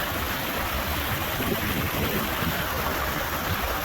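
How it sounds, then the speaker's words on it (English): Swift river water rushing over solid rock, a continuous close hiss and churn that holds steady throughout with no talk over it. "It's pretty swift, that water."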